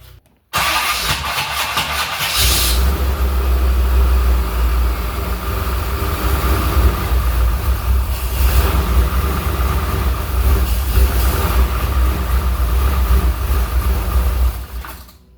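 A car engine cranks over with a new aftermarket starter, catches and settles into a steady, loud, rough idle that runs alone for most of the stretch before cutting off.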